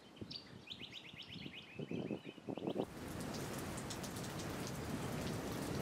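Rain falling on camp awnings on Fraser Island, a dense steady patter that swells in after some bird chirps and clattering, then continues loud and even.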